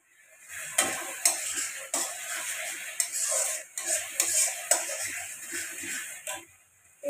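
Food fries in Sundrop oil in a pan, a steady close sizzle broken by repeated scraping stirs and the clink of a utensil against the pan, with no voices.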